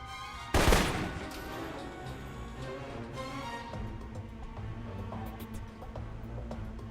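A single loud rifle shot cracks out early in Alpha Protocol, followed by a long, steady stretch of low rumbling game ambience with faint ticking and no further shots.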